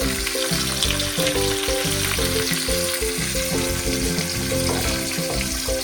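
Chicken 65 pieces shallow frying in hot oil, a loud steady sizzle and crackle filling the space, close up, with occasional stirring clinks and no voices.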